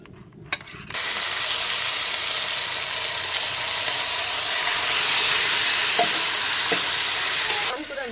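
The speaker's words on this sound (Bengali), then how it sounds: "মাংসের জন্য দেব তেল, মাংসটা এবার বসিয়ে দেব।" Chicken meat lands in hot oil in a pan for biryani and sizzles loudly and steadily, with a few light scraping stirs and knocks against the pan.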